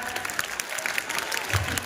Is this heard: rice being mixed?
no